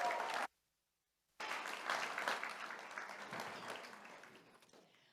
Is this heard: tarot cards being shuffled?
no